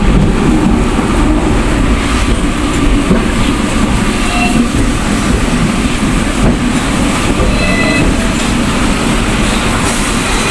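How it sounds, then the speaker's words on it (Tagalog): A tram rolling from Wan Chai toward Central on a rainy day gives a steady, loud onboard rumble with rhythmic wheel clatter and occasional faint high squeals throughout. "nakasakay ako dito sa tram from Wonchai."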